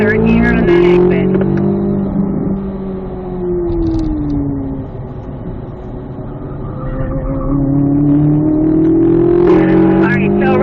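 A Chevrolet Corvette C8 Z06 on a track, its engine note climbing and falling through gears as it accelerates out of a corner, loud and close throughout, with a person talking over the engine.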